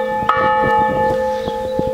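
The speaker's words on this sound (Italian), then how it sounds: "Faccio sentire il suono della campana più grande." The larger of several church bells rings close up, its long sustained tone holding steady with rich overtones and a few soft strikes sounding through it.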